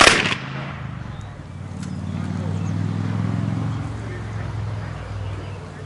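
An honor guard fires a ceremonial rifle volley at a Medal of Honor heritage trail marker dedication: one loud sharp report at the start, followed by a long fading rumble and quiet outdoor ambience.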